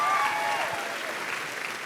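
Applause from a live audience at a talk show appearance with Jason Kelce and a Philadelphia crowd, a dense steady wash of clapping that holds at full strength through the whole moment, with a faint voice briefly above it at the start.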